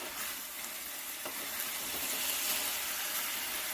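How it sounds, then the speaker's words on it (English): Curry chicken frying with Scotch bonnet pepper in a pot, Trinidad-style, a steady dense sizzle that holds close and fairly loud throughout with no voices. "Yes, it's coming to a nice sizzle."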